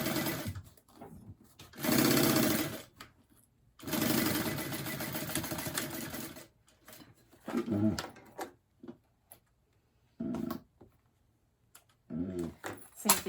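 Sewing machine basting a purse shut with an 1/8 inch seam, running in several bursts of steady whirring stitching separated by pauses, with brief handling noises between runs.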